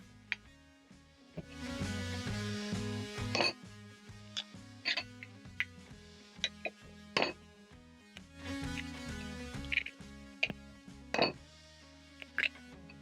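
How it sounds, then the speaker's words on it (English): Three eggs cracked into a bowl in a home kitchen, heard as a series of sharp, brief taps and clinks against the bowl, spaced irregularly over soft background music. "I'm going to use the same bowl that I used to make my first sandwich and crack in 3 eggs"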